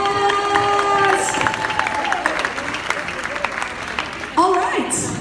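Audience applause at a 2019 charity auction for St. Luke's Foundation, a crowd clapping steadily for several seconds with a few cheers, under an amplified voice and a loud burst near the end.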